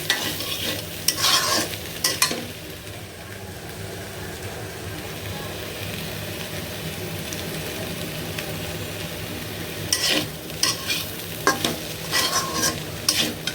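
Vegetable bhaji frying in a pan with panch phoron powder, a steady close sizzle with scraping stirring bursts at the start and end, no talk.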